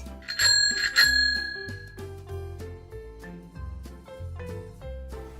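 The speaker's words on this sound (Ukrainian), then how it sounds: "Велосипед." A bicycle bell rings a few quick bright dings near the start, alongside a bouncy musical backing that carries on after.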